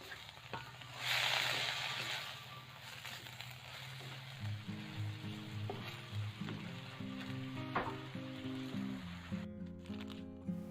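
Chop suey vegetables stir-fry in a hot pan with salty soy sauce, a loud burst of sizzling as the sauce goes in, then steady frying with scraping stirs of the spatula throughout.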